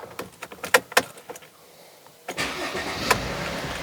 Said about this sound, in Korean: 이제 시동을 한번 걸어보도록 하겠습니다.